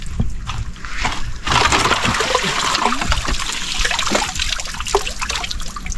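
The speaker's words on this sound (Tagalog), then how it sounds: "yung agos ng tubig" Water rushes through the opened gate of a fishpond being drained for harvest, a loud continuous gushing and splashing that surges up after a quieter start, with no talk.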